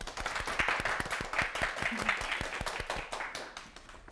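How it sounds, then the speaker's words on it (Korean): Applause greets a magician at a Korean lecture show. It is a smaller scattering of distinct claps that keep a loose rhythm and fade slightly toward the end. "큰 박수로 맞아주세요"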